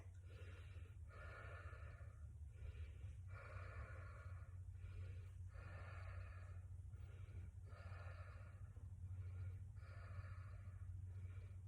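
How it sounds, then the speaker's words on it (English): Slow, deep breathing during a squatting yoga pose such as goddess or garland, with about six rhythmic breath cycles, close and quiet over a low steady background hum. "I want you to keep breathing rather than holding the breath."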